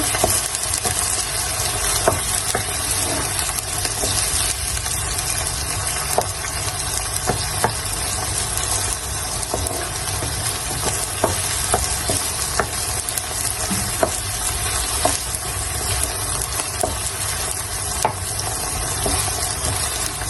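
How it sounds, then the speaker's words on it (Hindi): Chopped tomatoes and green chilies fry in a pan for handi kebab, a loud continuous sizzle and crackle with occasional spatula clicks and stirring throughout, no talk. "ये टमाटर और हरी मिर्चें जो कि मैंने काट के रखी हुई थी। अच्छे से भून लेंगे।"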